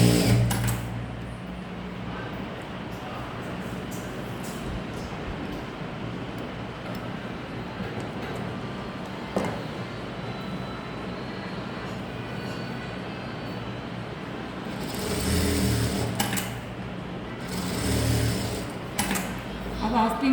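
Sewing machine running steadily while stitching the shoulder seams of a blouse, a continuous close whir that surges louder in two short bursts near the end, with no talking over it.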